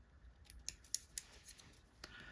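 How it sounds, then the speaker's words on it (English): Scissors snip off excess thread at a fly-tying vise, a quiet run of about eight crisp close metallic clips in an uneven rhythm, with no talk. "A couple good wraps, and we're going to clip off the excess."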